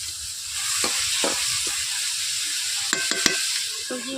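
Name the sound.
vegetables frying in a pan (pui shak, potato, eggplant)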